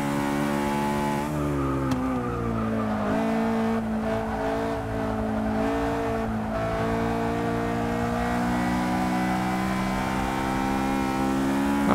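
A 2009 Honda S2000 races in Forza 6 on an Alps track, its engine revving loudly through rising and falling gear changes with sustained harmonic drone and brief tire skids, steady and close throughout.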